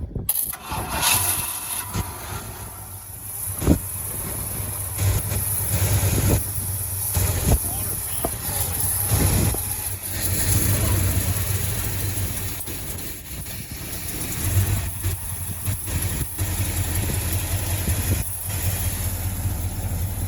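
A 1977 Ford engine runs steadily at a rough idle with a few brief rev bursts, loud and close, while people talk over it.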